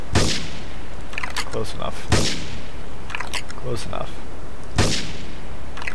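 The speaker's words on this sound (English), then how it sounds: "Investigate reports of gunfire and explosion." Gunfire in GTA III rings out as three sharp shots spaced a couple of seconds apart, with a brief spoken remark between them.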